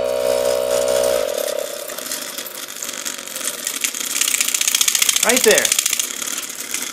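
A homemade pneumatic metal engraver running on compressed air, a steady buzzing whir whose pitch climbs as it is tuned to the right speed, with a short spoken phrase over it.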